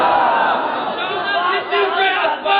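At a religious gathering, a large crowd chants slogans together in loud, sustained unison that keeps going through the whole moment, with voices blending into one roar.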